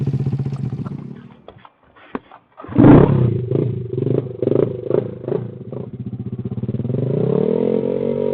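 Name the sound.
motorcycle engine revving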